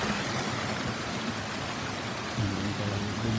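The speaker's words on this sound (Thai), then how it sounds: "น้ำตก" Water tumbles down a waterfall in Xaisomboun province, Laos, a steady broadband rush with a low rumbling undertone, constant throughout and without voices.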